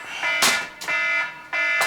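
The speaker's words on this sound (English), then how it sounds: "My alarm. Fuck you, alarm." A personal alarm beeps in loud, evenly spaced electronic bursts, each a harsh buzzing tone with a sharp onset, repeating about three times over a couple of seconds indoors.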